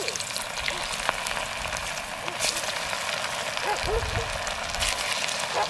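Chicken pakora batter sizzling and crackling in very hot oil in a kadhai at a forest campsite, a steady dense frying hiss with a few louder pops, a voice talking faintly over it.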